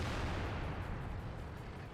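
Tank guns fire in World of Tanks as a deep, rumbling boom from a distant shot that rolls on and fades over two seconds, with no voices.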